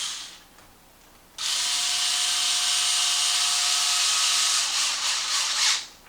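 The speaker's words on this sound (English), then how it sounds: "Let's tighten up your shock and your outer tie rod." A power driver fitted with a 2 mm hex bit snugs down the shock and outer tie rod on a Traxxas Maxx RC truck, giving one steady, close whirring whine that holds for about four seconds and then stops.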